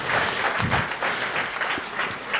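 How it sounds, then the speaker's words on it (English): Audience applause fills a hall at a community foundation's awards session, a steady, dense clapping that holds for a couple of seconds before a sharp louder burst at the end. "A big applause, please."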